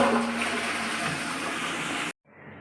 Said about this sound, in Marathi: आणि त्यानंतर ओढायचा फ्लश.